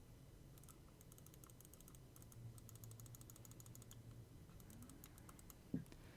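Side buttons on a Delux M800 budget mouse pressed repeatedly, faint, crisp little clicks coming in quick bursts against a quiet background.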